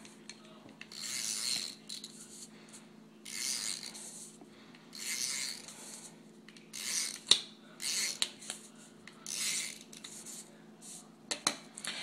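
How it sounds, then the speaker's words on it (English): A tape runner lays adhesive to fix patterned paper onto a handmade sympathy card with butterflies, giving close, repeated rasping strokes, roughly eight short bursts with faint clicks between them. "I'm going to adhere this down with my tape runner"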